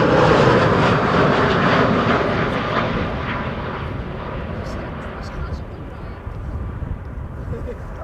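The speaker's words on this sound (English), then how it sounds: "an A320 arriving from Bristol" An Airbus A320 airliner arriving at Amsterdam Schiphol Airport roars loudly overhead, a broad jet rumble that slowly fades as it passes, with a voice speaking over the noise.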